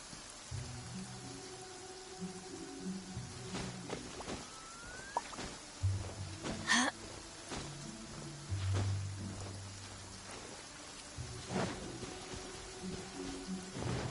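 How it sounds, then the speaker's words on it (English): Steady rain falling in the Genshin Impact video game, a continuous soft patter with occasional low rumbles and scattered game effects layered over it, no voices. "It always rains when I go on an adventure."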